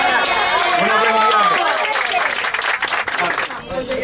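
An audience at a 25th anniversary celebration at Quinta do Paul in Portugal breaks into loud, close applause mixed with cheering and shouting voices, and the clapping grows more distinct toward the end.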